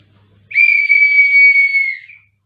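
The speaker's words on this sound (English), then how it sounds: "Balu is blowing the whistle" A child named Balu blows one long, shrill whistle, loud and close, holding a steady tone for about a second and a half before it trails off.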